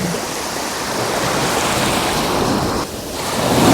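Black Sea surf at Chornomorsk washes onto the shore, a loud steady rush of breaking waves with wind buffeting the microphone, briefly dipping before another wave swells up.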